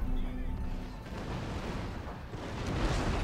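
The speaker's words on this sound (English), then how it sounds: "it's a fusilier of the normal line infantry that sounds like cannons" Line infantry fusiliers firing a volley in a samurai-era strategy video game, a deep rumbling cannon-like boom rolling on for several seconds, with a voice talking over it.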